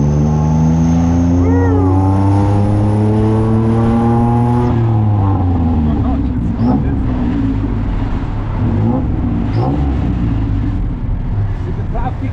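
A tuk-tuk's engine revs and drones through Bangkok traffic, its pitch climbing then dropping as it shifts, with a rattling motor sound close by and occasional voices over it.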